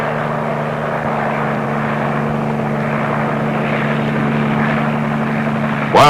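An H-37 helicopter is in flight, carrying a Little John rocket crew and its lightweight launcher during a U.S. Army training exercise around 1960. Its rotors and engine give a steady, close, loud droning roar that continues evenly throughout.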